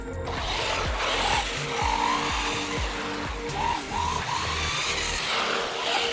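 A WLtoys 104001 RC car on its first run whines and buzzes close by, its electric motor surging through repeated bursts of acceleration and hard braking, with rhythmic pitch rises and drops and no talk.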